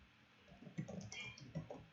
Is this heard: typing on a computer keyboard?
yes